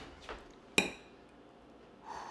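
A metal fork clinks once sharply against a plate holding freshly cut roast chicken with crispy skin, in a home kitchen, followed by quiet handling noise.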